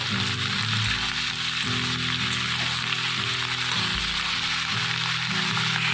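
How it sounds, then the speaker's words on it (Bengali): Vegetables for a cabbage dal tarka lightly frying in a pan, a steady soft sizzle running throughout, close and even, with a low droning hum underneath. "দেখুন আমার এগুলো ভাজা হয়ে গেছে আমি হালকা করে এগুলোকে ভেজেছি সবজিগুলোকে"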